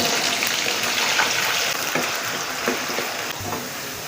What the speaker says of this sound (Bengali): আলুগুলো ফ্রাই করার জন্য তেলের উপর দিয়ে দিচ্ছি